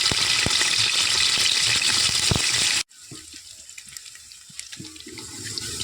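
Chopped onions hit hot oil in a pot for a winter-vegetable khichuri, giving a loud, steady sizzling hiss that cuts off abruptly to a quieter crackle with small clatters.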